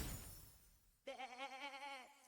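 A single goat bleat from a Fortnite video game emote, a wavering nasal cry lasting about a second that starts abruptly after a quiet moment.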